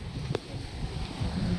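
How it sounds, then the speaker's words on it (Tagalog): Wind blows outdoors around a countryside family home, a low rumbling buffet with gusty swells and a brief sharp knock, mostly steady and close to the microphone. "Ang ganda, sarap ng hangin."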